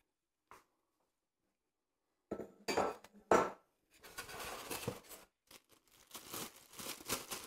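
Metal dough hook attachment for a Kenwood Titanium Chef Baker XL stand mixer being handled, giving a few sharp clinks and clatters, then a busier stretch of rattling and knocking against other parts, close by with no talk.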